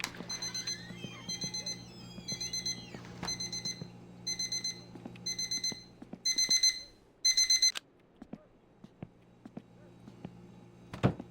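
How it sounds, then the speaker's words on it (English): An alarm clock in the video game My Winter Car rings loudly in repeated rapid beeping bursts, about eight pulses that grow louder before cutting off, followed by a soft thud. "That's one loud alarm clock."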